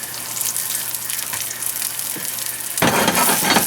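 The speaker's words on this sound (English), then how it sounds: "in the same pan, we're gonna use this one to roast our sweet potato, or pan fry them basically" Sweet potato pan-frying in oil gives a soft steady sizzle that suddenly jumps to a loud, dense crackle near the end, close up with no talk.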